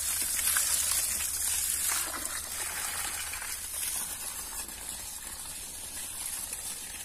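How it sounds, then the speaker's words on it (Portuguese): Rainwater runs down across a farm plot in Maranhão after heavy rain, a steady soft hiss and trickle that gradually fades slightly, with no voices. "Olha lá, a água desce lá"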